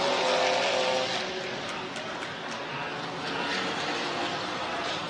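Several GT sports cars racing closely together in a pack on a street circuit at St. Petersburg, a sustained broadband engine roar with passing whine, steady and loud throughout.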